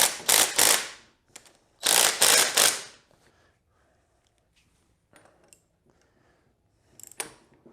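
A ratchet wrench tightens the 14 mm top bolts on the fork of a 2002 Honda XR70R, with two loud bursts of rapid clicking followed by quiet and a few faint metallic taps.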